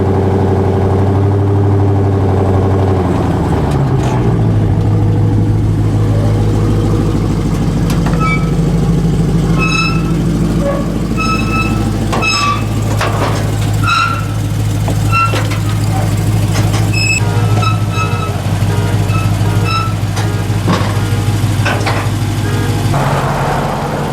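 Engine of a 500 hp Dodge Magnum Scat Pack wagon running steadily just after being unloaded from a trailer, a loud continuous low rumble throughout with some clatter on top.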